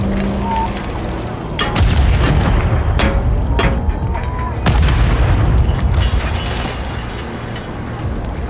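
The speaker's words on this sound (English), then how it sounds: "There's enemy fire!" Heavy booms, gunfire and explosions fill a Call of Duty Modern Warfare III battle, with deep rumbling blasts and sharp cracks over a dense, loud low-end roar and some speech in the mix.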